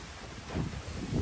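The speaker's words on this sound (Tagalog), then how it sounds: "Medyo malakas talaga yung hangin." Strong wind beside a villa pool rumbles low, buffeting the microphone in a brief, swelling gust.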